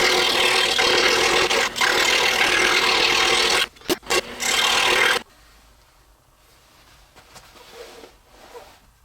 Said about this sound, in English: we're going to carefully cut this out, remembering that we need to cut right through this radius here that we drew earlier.